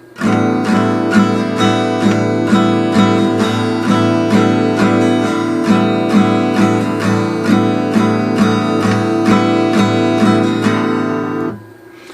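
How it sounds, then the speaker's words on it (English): Acoustic guitar strummed in a steady repeating rhythm, bright chords played continuously at an even tempo with no talking. "Now I'm going to teach you a strumming pattern."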